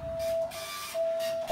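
A fire station call printer runs through a turnout sheet, a steady mechanical whir with a thin, sustained tone, moderately loud and close, pausing briefly midway before starting again.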